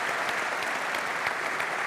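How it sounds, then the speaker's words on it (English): A live audience applauds a rugby panel at a Six Nations preview event, sustained even clapping from many hands, close and unbroken throughout. "round of applause for the panel"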